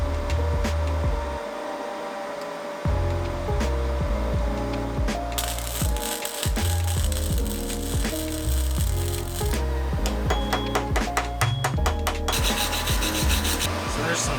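Flux core MIG welding with a Yeswelder MIG 250 Pro, gun set to negative polarity: a loud, close, harsh crackling sizzle that runs in steady bursts with a few short breaks between beads.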